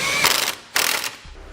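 A ratchet tightens a shock bolt on a 2015 Buick Enclave during an air helper spring install, giving two close bursts of rapid clicking separated by a short pause, loud and alone.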